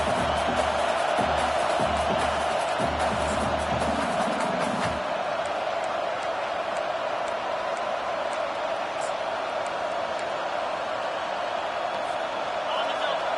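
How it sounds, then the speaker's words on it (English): Crowd noise fills a football stadium during a tense Notre Dame vs Alabama game late in the first half, a steady loud roar that runs throughout with no break, with low thumps in the first few seconds. "this crowd is making it miserable on this offense."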